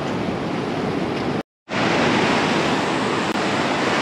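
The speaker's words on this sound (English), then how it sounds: "And then you got the ocean, the beautiful ocean." Ocean waves at Melasti Beach in Bali, a loud, steady wash of surf with a brief drop to silence partway through before the roar resumes.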